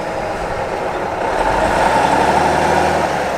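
A vintage ERF lorry pulls into a show grounds, its diesel engine a steady low rumble that swells slightly as it nears, with no talk over it.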